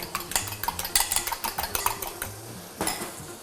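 A utensil clinks and scrapes rhythmically against a bowl while mixing a batter with vanilla sugar for a tatin-style French toast, a rapid run of close metallic taps that pauses briefly, then resumes.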